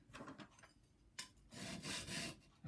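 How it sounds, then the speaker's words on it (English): A knife blade is rubbed across the coarse side of a new diamond sharpening stone, giving a faint rasping scrape in a few short strokes, with a longer, louder pass toward the end. "if I flip that over onto the coarse side, you'll really hear this"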